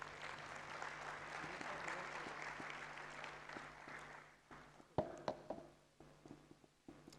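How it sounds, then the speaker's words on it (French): An audience at an economic forum panel applauds, a broad patter of clapping that fades after a few seconds, leaving scattered sharp knocks and handling noises in a quiet room. "Je vous invite encore une fois à applaudir tout ce panel"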